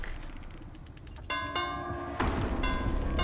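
Church bells toll in a church in Dead by Daylight, two or three resonant metallic strikes ringing out one after another over a low background rumble, fairly close, with no talk.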